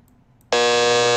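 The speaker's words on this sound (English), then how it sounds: "Love my buzzer." Game show buzzer giving one loud, flat electronic buzz lasting under a second after a brief quiet moment, heard alone.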